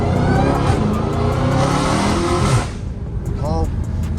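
A Dodge Hellcat Redeye with a mid-muffler exhaust revs hard, a loud raw roar that cuts off abruptly partway through, leaving quieter traffic noise behind.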